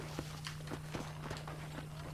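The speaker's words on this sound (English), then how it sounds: "let's see if you can still ride a horse." Horse hooves clip-clop at a steady walking pace in the video game Red Dead Redemption, about ten even knocks close by over a faint low electrical hum, with no talking.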